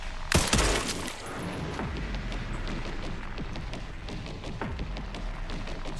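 Sniper rifle fire in Resident Evil Requiem: one sharp, loud crack early on with a short echoing tail, then fainter distant thumps and impacts over a steady game background.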